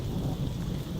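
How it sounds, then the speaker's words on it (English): Deep, steady rumble of thunder rolling through a thunderstorm, heard while walking in woods, with rain noise continuous throughout the second and no voices. "that's pretty powerful lightning, thunder that is"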